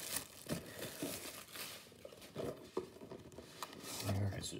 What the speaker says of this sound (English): As I get the littlest piece of the plastic ripped off.